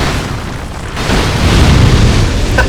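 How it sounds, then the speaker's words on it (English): Exploding barrels in Dark Souls II: Scholar of the First Sin, a loud deep boom that swells and rumbles on for a couple of seconds, with a short crackle near the end. "these are exploding barrels"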